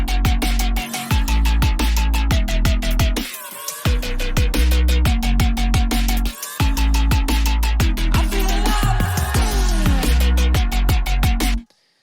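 Electronic dance music drop from a remake, built on a punchy FM square-wave synth bass line with 808, loud rhythmic stabs with brief gaps and pitch bends, ending abruptly.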